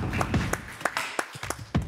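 A few people clap sparsely at a film pitch session, the separate hand claps clearly spaced and uneven rather than a full ovation.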